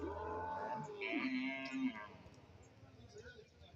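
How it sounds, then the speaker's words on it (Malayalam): A single long, low moo rises and falls from cattle standing among bulls and buffaloes at a livestock market, fairly close but quiet, trailing off into soft background murmur. "ഈ ഭാഗത്ത് കുറച്ച് പശുക്കളും മുരികളും പോത്തുകളും ഒക്കെ നിൽപ്പുണ്ട്"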